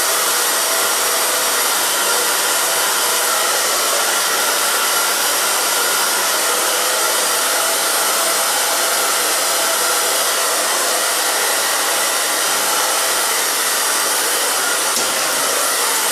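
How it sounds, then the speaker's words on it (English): A hair dryer runs continuously at close range while blow-drying freshly cut bangs, a loud, steady rushing whoosh of air with a motor hum that holds without a break for the whole stretch, alone. "I'm just going to take this little bit and blow dry this."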